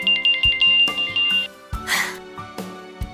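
An electronic phone ringtone plays a short repeating melody, loud and close, in stop-start bursts.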